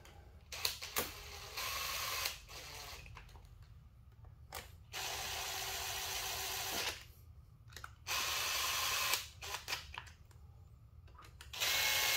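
Bolts on a KTM 390 Duke are tightened during a Factory Shift Pro kit install, giving several bursts of close mechanical ratcheting clicks broken by short quiet gaps, with no talking.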